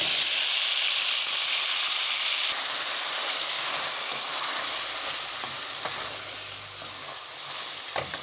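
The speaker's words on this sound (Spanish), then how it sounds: "Estos los vamos a freír" Cooked beans fry in a hot pan with a loud, steady sizzle and hiss that starts strong and gradually eases, with a few faint scrapes near the end and no talking.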